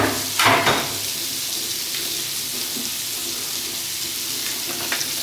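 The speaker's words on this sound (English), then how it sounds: "we have our frying action" Chopped aromatics hitting a hot pan for a potato and cauliflower gratin, a sharp burst of sizzling at first that settles into a steady, close frying hiss.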